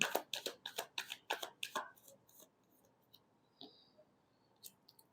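Tarot cards are riffled in a quick run of about eight crisp shuffling bursts, close and fairly quiet, then a few scattered soft taps and card slides follow.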